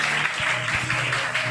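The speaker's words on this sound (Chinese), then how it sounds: "所以给我们大家一个掌声好吗？" An audience at an awards-night business gathering claps together in a steady burst of applause, with dense, close, sustained clapping and no speech over it.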